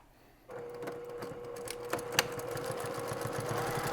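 A sewing machine stitches a seam through fabric with a quiet, steady mechanical whir and a rapid needle rhythm. It starts abruptly after a moment of near silence and continues alone at low volume.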